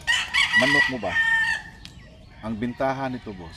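A rooster crows loudly and repeatedly, with chickens clucking nearby, while someone speaks briefly over the birds.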